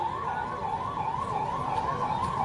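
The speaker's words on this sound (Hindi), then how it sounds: "इतने सारे एम्बुलेंस जाना संकेत अच्छा नहीं है।" An ambulance siren wails continuously in a steady rising and falling cycle, loud and fairly close, with traffic rumble beneath it.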